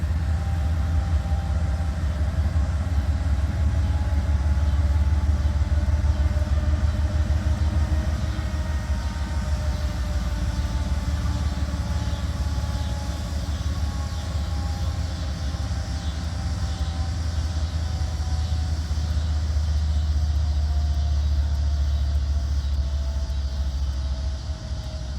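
A locomotive idles at a signal stop near Abbeville, its deep steady engine rumble holding close and constant throughout, with faint higher tonal whines drifting above.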